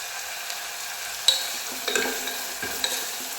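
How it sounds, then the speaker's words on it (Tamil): Chopped onion and green chillies frying and being stirred in a pan: a soft continuous sizzle with a few scraping stirs and light clinks of the spoon, close up, no voices. "வெங்காயம் போட்டு லைட்டாக வதக்கி கொடுங்க."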